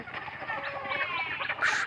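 Chickens and other backyard fowl let out of their coop in the morning, a dense clucking, chattering flock heard close and continuously, with a louder burst of calls near the end.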